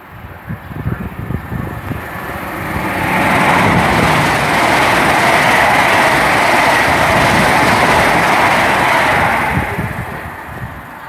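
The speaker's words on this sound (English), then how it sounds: "passing through now is a service on Bristol Temple Meads to London Paddington" A Class 800 train on a Bristol Temple Meads to London Paddington service passes through Tilehurst station without stopping. A low rumble swells into a loud, close roar that holds for several seconds and then gradually fades away.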